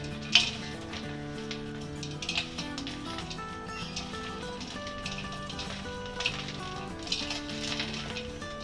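A spoon stirs a gond and dry fruit laddu mixture with green cardamom powder in a pan, giving soft scraping with a few sharp clinks against the metal, all under steady background music.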